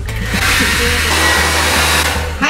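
A hair dryer blows hair dry with a loud, continuous whirring roar up close, holding steady before dipping briefly at the very end.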